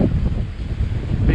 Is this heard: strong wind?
yes